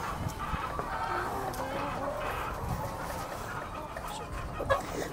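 Layer hens in a coop set above a catfish and pangasius pond cluck in a steady, busy chorus, close and fairly loud, with a dog sounding in among them.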